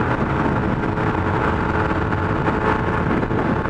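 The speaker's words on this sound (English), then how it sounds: "judging from the sound of the exhaust on that one, it sounds like a 125" A 125cc four-stroke motorcycle engine drones continuously with a rough, buzzing exhaust note, running steadily throughout, fairly loud with some wind rumble.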